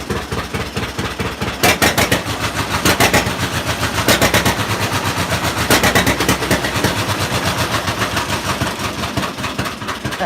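A John Deere Model A tractor engine idles slowly and loudly up close, with a steady, heavy chugging beat of evenly spaced pops and a few stronger bursts along the way.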